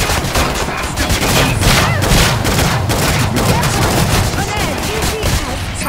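Continuous, dense gunfire mixed with grenade explosions in the video game Killing Floor 2, loud and relentless throughout, with rattling shots and heavier blasts overlapping, and occasional voice sounds underneath.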